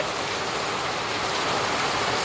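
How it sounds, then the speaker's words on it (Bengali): Heavy rain pours steadily at night, a dense, continuous wash of falling water with no voices. "প্রচুর বৃষ্টি হচ্ছে মানে আধা ঘন্টা যদি হয়"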